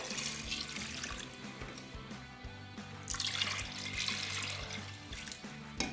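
Water runs from a tap into a pot of browned beef for haleem, a steady splashing stream with a brief pause midway before pouring resumes, close and moderately loud.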